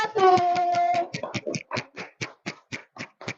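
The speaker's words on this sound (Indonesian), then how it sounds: "kita beri tepuk tangan untuk kelompok" Classroom pupils clap for a group of classmates, starting as a dense burst over a held voice, then thinning into a dozen loud rhythmic claps at an even pace, close and alone.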